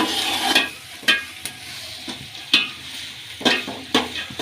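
Chopped onions with green chillies and curry leaves stirred in a pan, a steady sizzle broken by repeated sharp spatula scrapes at an irregular rhythm, close and fairly loud with no talking.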